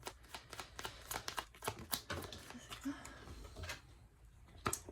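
Tarot cards being shuffled and drawn during a reading: a run of quick papery riffles and snaps, close and fairly soft, with short pauses between bursts.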